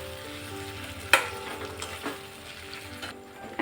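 Chili potatoes in chili and tomato sauce being stirred in a frying pan, a sharp utensil clack followed by softer scrapes over a constant sizzle, close and moderately loud.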